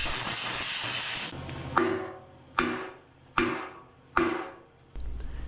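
A bracket is hammered on a buried pipe for a DIY hydroelectric setup, four sharp metallic blows at an even, unhurried pace, each ringing and fading before the next, over a steady background hiss, with no voices.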